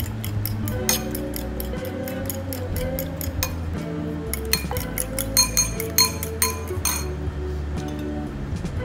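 Eggs being beaten with a utensil in a bowl for a cheese omelette, a steady run of quick clinking taps against the bowl, close and fairly loud, with no talking.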